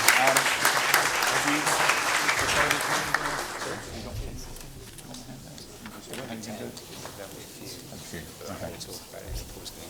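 Conference audience at an awards event applauds, dense clapping strongest for the first few seconds before fading to a quieter murmur with someone talking.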